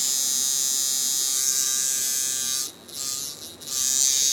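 A coil tattoo machine with thicker springs buzzes close and steady, a bright high-pitched electric drone that briefly dips and stutters twice before resuming.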